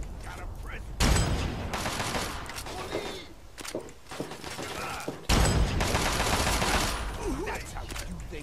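Bursts of rapid gunfire ring out in the Fallout 3 video game, two long volleys of dense, loud shots separated by a brief lull, with faint mechanical clanks and a voice in the background.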